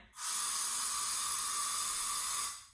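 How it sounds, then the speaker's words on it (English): An aerosol air freshener sprays in one continuous hissing burst of about two seconds, close and steady, starting and stopping cleanly with no talk over it. "Then I'll use the air freshener to spray, and you should be able to see the line."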